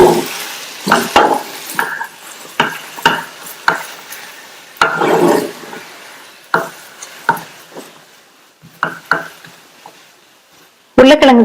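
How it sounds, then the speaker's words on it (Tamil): Three medium boiled, mashed potatoes are stirred into a masala in a pan for a dosa filling: loud, close scraping strokes in an uneven rhythm, ending with a sharp clatter of the utensil. "வேக வச்சு மசிச்ச 3 மீடியம் சைஸ் உருளைக்கிழங்க சேர்க்கிறேன். இப்ப எல்லாத்தையும் நல்லா பிரட்டி விட்டுருங்க."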